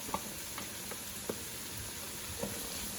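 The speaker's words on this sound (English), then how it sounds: "You just want that sizzle like you hear" Soft, steady sizzling of onion and garlic frying in a pan, with a few light clicks from a utensil stirring; quiet and close.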